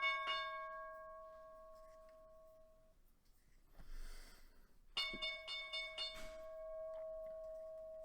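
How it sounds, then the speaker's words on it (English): A computer sounds the stock market opening bell with bright, ringing metallic tones, one struck near the start and another strike a few seconds later, each followed by a lingering ring. "two computers have different bell times apparently."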